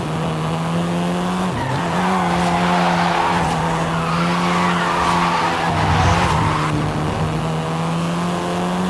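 A seventh-generation Volkswagen Golf R in Forza Horizon 5, its engine droning steadily at high revs while the tires squeal and skid through sustained slides, loud and close with no talking.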